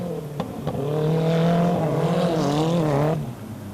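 Race cars on the Ban Bueng circuit roar past in a loud, sustained engine whine that rises and bends in pitch as they sweep by, then trails off.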